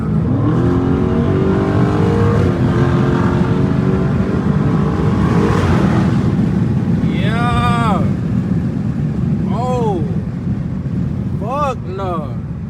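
A straight-piped Dodge Challenger Scat Pack rumbles loudly from inside the car while driving, its deep engine drone steady with several rising rev sweeps toward the end.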